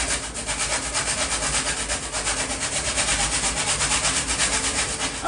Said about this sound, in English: grate in some bits of nutmeg